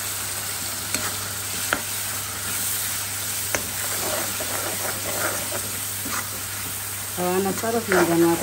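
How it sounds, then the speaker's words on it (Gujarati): Spices such as chilli powder, turmeric, garam masala and coriander-cumin roasting in hot oil in a pan at home, a steady soft sizzle with a few stirring clinks and a voice speaking over it near the end. "એક મિનિટ સુધી શેકાવી દઈશું જેથી કરીને આપણા મસાલા કાચા ન રહે અને તેલની અંદર શેકાઈ જાય."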